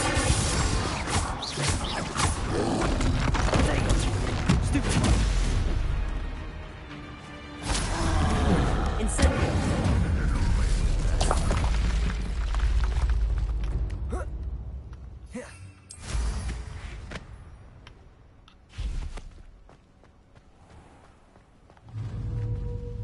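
Spell blasts from Hogwarts Legacy, including Confringo, burst into loud, crashing impacts. They come in dense clusters, then drop away into quieter gaps with scattered hits, over game ambience and brief vocal sounds.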